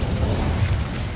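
Incendio fire spell cast in the video game Hogwarts Legacy, a dense, loud burst of roaring, crackling flame with deep rumble that sustains for about a second.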